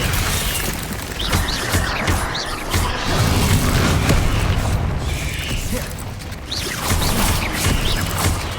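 Descendo spell in the video game Hogwarts Legacy, during combat: loud crashing booms and mechanical clatter over dense rumbling game noise, with several impacts bunched together and a sustained roar between them.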